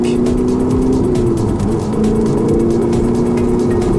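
A road car pulling hard in fifth gear during a road driving course, a steady loud engine drone with tyre and wind roar and no pause.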